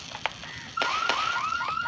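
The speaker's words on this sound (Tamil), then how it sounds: "நல்லா அலாரம் அடிக்குது." Car alarm in a firecracker video game wails in repeated rising electronic whoops, loud and clear after a brief pop or two at the start.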